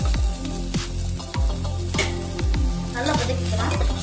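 Garlic, ginger and onion sautéing in a pan for a roadside mushroom soup, with a loud continuous sizzle and regular scraping strokes of a spatula every half second or so, close up with no voices.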